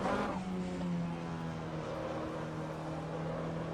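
An MCR 2000 race car with a 4-cylinder engine drives by with a loud, buzzy, harmonic engine note that sweeps slightly in pitch before holding a steady drone.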